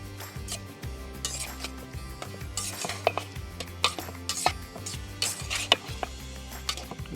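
A spoon clinks and scrapes against a bowl while tossing a tomato bruschetta topping with garlic, basil, salt and pepper, producing irregular close taps and stirring sounds with no voices.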